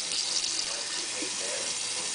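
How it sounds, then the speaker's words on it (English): Water runs steadily from a kitchen tap into a sink, a close, even hissing flow for about two seconds with no voices. "You have to put the water on."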